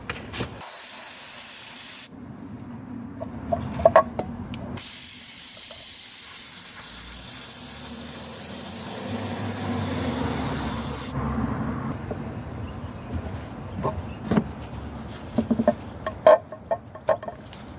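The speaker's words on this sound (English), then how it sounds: "Carb cleaner is your friend." Carb cleaner sprays in long, loud hissing bursts from an aerosol can at a Ford Kuga/Escape engine during injector work. The close hiss pauses briefly, then resumes, and a few faint clicks and taps follow near the end.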